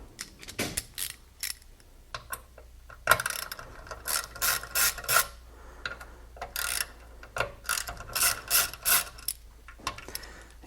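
Quarter-inch ratchet from a Blue Point kit backing out bolts on a 2007 Nissan Altima during a radio install, with repeated quick clicking bursts of the pawl in short rhythmic strokes, close and fairly loud, no talking.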